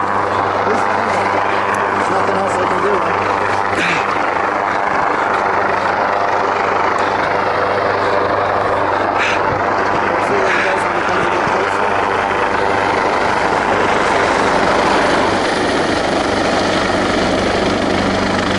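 A rescue helicopter hovers over an avalanche site near Courmayeur, Italy, its loud continuous rotor thrum and turbine roar filling the air, with people speaking faintly beneath it.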